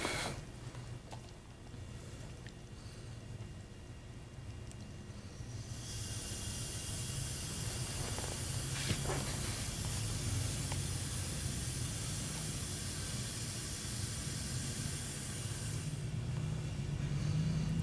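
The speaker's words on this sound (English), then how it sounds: "I'm gonna go ahead and start adding the gas." Refrigerant gas hissing from a gas bottle into a refrigerator line, a steady soft hiss that grows louder and brighter partway through and runs continuously without talk.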